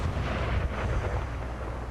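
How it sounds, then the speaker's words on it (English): Cannon fire booms through a Civil War video game battle at Franklin, a dense, continuous low rumble of artillery blasts and explosions rolling together loudly with no clear gaps. "Looks like he's getting hit really hard with cannon"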